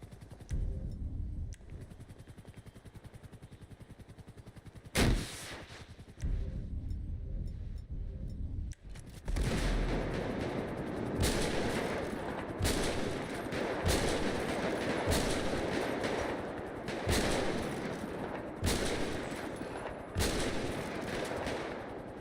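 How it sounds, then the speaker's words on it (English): Rapid gunfire crackles through a GTA 5 firefight, with dense bursts of shots, a sharp isolated crack, then sustained volleys broken by brief gaps. The shooting is loud and close, with no talking over it. "How you get up from a damn sniper shot?"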